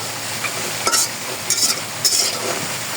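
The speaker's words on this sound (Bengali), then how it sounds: "তরকারি নামিয়ে ডালের বড়ি" Dried lentil dumplings fry in hot oil, a continuous close sizzle with three short bursts of stirring or scraping, no voices.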